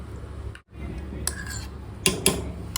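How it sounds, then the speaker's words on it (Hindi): A spoon scrapes and clinks against a dish while food is mixed, with a few sharp metallic taps near the end over faint background talk. "अच्छा मिक्स कर देती हूँ।"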